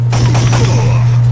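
Gunfire in the PS1 light-gun game Time Crisis, a rapid run of shots over a steady low electronic hum, loud and close, with the bursts thinning toward the end.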